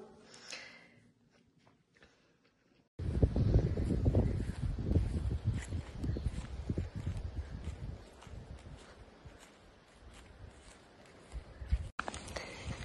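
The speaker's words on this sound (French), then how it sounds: "il y a beaucoup de vent" Strong wind gusts roar into the microphone outdoors after a quiet start, a loud buffeting rush that rises and falls for several seconds before cutting out briefly.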